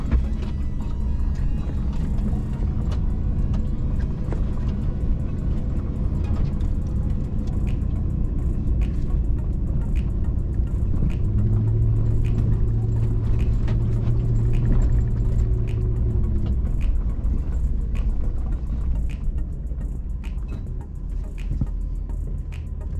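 A group of off-road vehicles rolls past on a dirt trail, a steady low engine rumble building as one passes close in the middle, then fading, with no talk.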